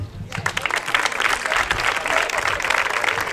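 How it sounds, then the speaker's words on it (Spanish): An outdoor audience at a village jota dance performance in Fuentes breaks into dense, lively applause that starts suddenly and stays loud and steady, with some crowd voices underneath. "Un aplauso."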